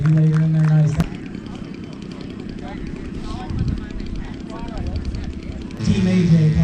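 A radio-controlled Piper Cub model airplane buzzes in to land at an airshow and fun fly, its small engine droning through a few bounces while people talk nearby.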